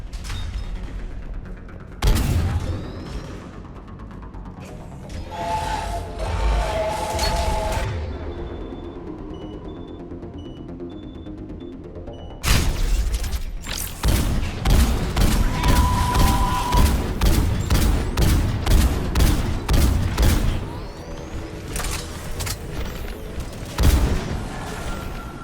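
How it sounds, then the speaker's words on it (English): Harvester gunfire and explosions in the video game Mass Effect 3, with dense rapid bursts and booming impacts in a loud, continuous battle mix. "Harvesters firing on the Turians!"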